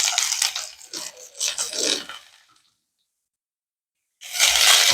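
Chopped onion, garlic and green chilli dropped into hot mustard oil in a village-style kitchen, crackling in loud bursts of sizzle that fade into a gap of silence before a fresh loud spatter.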